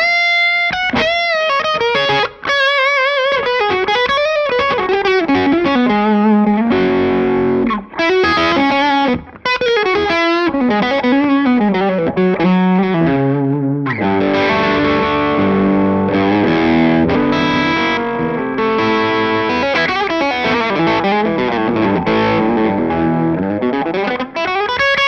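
Heavily distorted electric guitar played through a Peavey 5150 amp into Zilla cabinets, loud and full-toned with riffs and sliding chords that shift into denser, sustained chugging and bends, with no talking.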